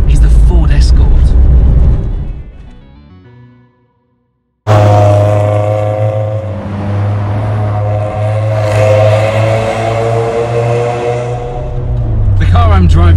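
A Toyota Corolla AE86 Japanese import drives with a steady engine drone and hum, loud and close, briefly cutting out before the engine note resumes, with talking over it.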